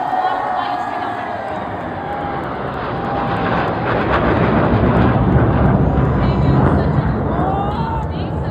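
Sukhoi-30 fighter jets of 24 Squadron fly past in Bheem formation over a Republic Day parade, a loud, sustained engine roar that swells and holds, with an announcer talking over it.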